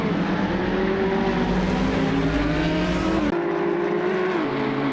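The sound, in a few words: GT3 race cars (Audi, Camaro) racing in video game Assetto Corsa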